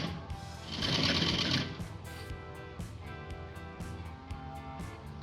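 Usha sewing machine stitching the seam of a printed palazzo, a close, steady run of rapid mechanical needle clatter that pauses briefly and then resumes in quick bursts.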